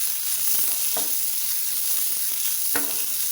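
Long-cut sliced big onion hitting hot oil in a pan for egg rice, a steady close sizzle and fry with a few stirring scrapes and no voices.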